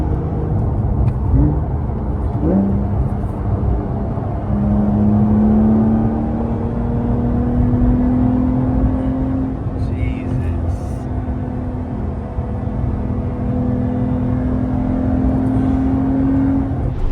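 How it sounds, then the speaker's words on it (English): A 2025 Porsche 911 Carrera T accelerating, its engine note climbing steadily and droning on at length, close and loud inside the cabin. "Little acceleration here in the Porsche."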